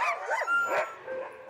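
Sled dogs in Canada bark and yip in a close, overlapping chorus, several excited voices rising and falling in quick bursts with a faint whimper mixed in, no talking.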